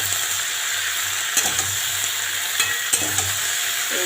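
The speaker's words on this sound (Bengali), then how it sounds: "ডাঁটা, বেগুন, আলু এরকম ভাজা ভাজা হচ্ছে।" Stalks, eggplant and potato with a little turmeric sizzle steadily in a pan, a constant close frying hiss broken by a few scraping stirs, with no talking.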